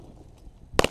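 A single sharp shotgun blast while pigeon hunting, one sudden loud crack with a brief echo after a quiet outdoor lead-in.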